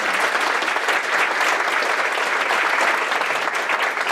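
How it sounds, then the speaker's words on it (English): After a speech, a seated audience claps loudly and steadily, a thick wash of applause throughout the short stretch. "Another round of applause."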